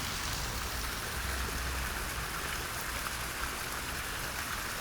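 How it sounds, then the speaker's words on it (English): Polluted water rushes over a natural hidden waterfall in Johannesburg, a steady, moderately loud broadband hiss with no pauses or voices. "it flows over some natural hidden waterfalls"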